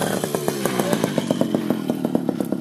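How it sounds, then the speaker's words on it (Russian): A power tool loosens old bolts on a go-kart, buzzing continuously with a rapid, steady ratcheting pulse, close and loud with no talk over it. "надо открутить старые болты"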